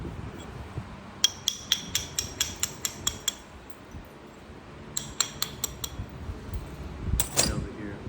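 Flint knapping of heated Alabama Coastal Plains chert, thinning with a bopper: two runs of sharp, ringing clicking strikes, with a brief rough scraping burst near the end. The sound is quiet and close.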